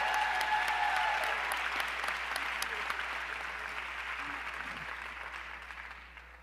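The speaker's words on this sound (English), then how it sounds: "collectively, round of applause, beautiful people, great insight" A town-hall audience applauds steadily after a panel discussion, a dense wash of clapping that slowly fades over several seconds.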